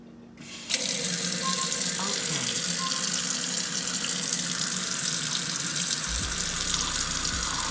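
Water from a Delta smart kitchen faucet runs steadily at the sink, a constant close hiss and splash that starts abruptly and continues unbroken.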